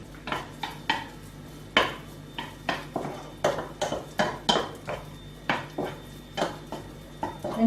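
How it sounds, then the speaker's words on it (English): Pork lard rendering in a pan alongside meat for Czech svíčková: steady metallic scrapes and knocks of a utensil against the pan in a regular stirring rhythm, close and fairly loud over a faint sizzle, with no talk. "Now I'm trying to extract oil from this lard to help me fry this meat and give it a nice color."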